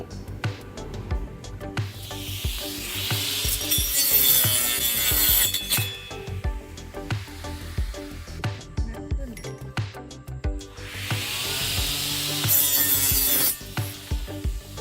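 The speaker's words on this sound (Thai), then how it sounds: "แล้วต่อไปเราจะมาลองใบเลื่อยวงเดือนกันนะครับ" A Delton DC 12V cordless trimmer fitted with a circular saw blade whines and rasps through woody material in two longer bursts, with clattering and scraping handling noise between them.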